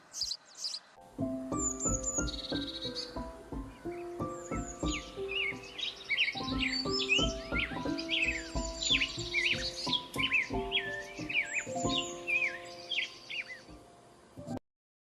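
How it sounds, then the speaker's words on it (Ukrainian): Several birds sing together in bright, twittering phrases with trills and chirps, over a steady backdrop of plucked, melodic music. "А ви чули, як навесні співають пташки?"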